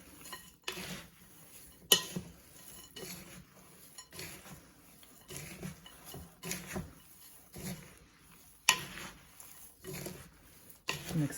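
Dry granola mix of oats and nuts stirred in a bowl, giving repeated soft scraping and rustling strokes with light clinks against the bowl, at a moderate, irregular rhythm and close by.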